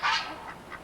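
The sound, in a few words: geese and ducks honking and quacking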